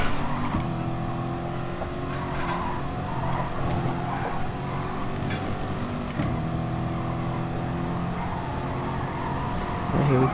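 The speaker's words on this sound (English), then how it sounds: "then just very aggressive with the throttle." Race car engine under heavy throttle in the racing game GT Sport, a steady droning whine held at high revs for the whole stretch, with only slight dips in pitch and no pauses.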